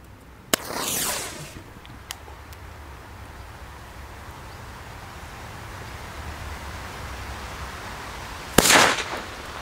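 Two sharp firecracker bangs from Swiss bangers several seconds apart, each followed by a brief crackling burst, over a quiet outdoor background hiss.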